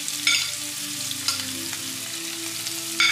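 Onion, capsicum and green chillies sauté in a pan for homemade mini burgers, making a steady, moderate frying hiss up close, with a few brief scraping stirs and no voices.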